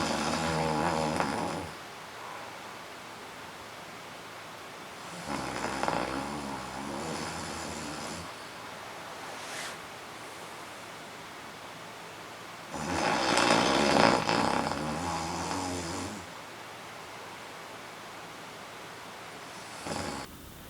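A man snores loudly in three long, rasping inhalations separated by quiet breathing pauses, the snores rumbling and buzzing close by with no talk.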